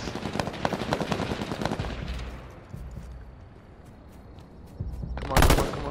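Automatic gunfire in the online shooter H1Z1, loud rapid bursts of shots that fade into a quieter stretch before another sharp close burst near the end.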